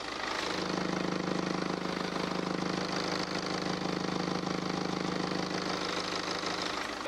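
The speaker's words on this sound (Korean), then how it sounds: "5시리즈 차량의 지금 엔진 소리 듣기 위해서 보네트까지 개방을 해봤습니다" A steady, low engine idle from a BMW 5 Series G-body sedan with the hood open hums continuously with a faint rhythmic ticking, close by and unchanging throughout.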